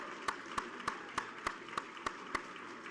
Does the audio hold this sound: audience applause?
yes